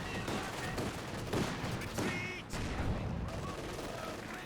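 Sustained battlefield gunfire from a Company of Heroes 2 match, dense rattling rifle and machine-gun bursts overlapping with distant booms, steady and loud throughout, with a voice faintly mixed in.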